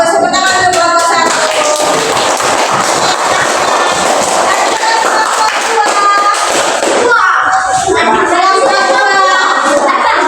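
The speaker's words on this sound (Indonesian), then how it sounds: "Tepuk tangan untuk kelompok 1." Fourth-grade primary school children clap in a classroom for a class group, loud and close, in rhythmic bursts mixed with children's voices chanting and shouting throughout.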